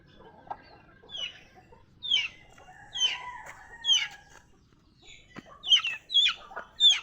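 Brooding hen clucking on a small backyard poultry setup, a series of short close clucks and murmured calls at an uneven rhythm, fairly loud with quiet gaps between them.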